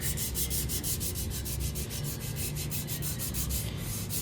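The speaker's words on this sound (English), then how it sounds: "I'm even going to do a sand through here, all the way through to metal" A Scotch-Brite pad scrubs back and forth across a car fender's paint in quick, even strokes, a loud rhythmic rasping that repeats steadily throughout with no talking.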